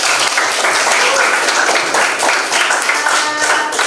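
A classroom of students applauds a presenting group, with brisk, dense clapping that stays loud throughout the short burst.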